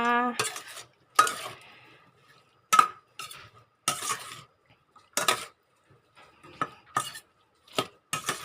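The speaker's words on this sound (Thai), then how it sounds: "จากนั้นก็มาคุเลคุเลให้เข้ากันนะคะ" Mango salad with fresh shrimp and fermented fish sauce being tossed and stirred in a bowl, a series of close, crisp clinking scrapes of utensils against the dish in short irregular bursts.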